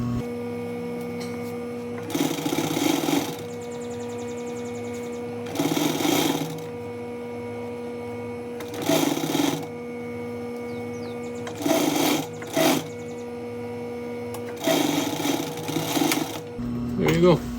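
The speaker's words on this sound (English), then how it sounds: "Just keep pulling it nice and tight around the edge and keep stitching." Sewing machine stitching binding around a carpet edge for a 1962 Triumph TR4, running in several short mechanical bursts separated by pauses over a steady background hum.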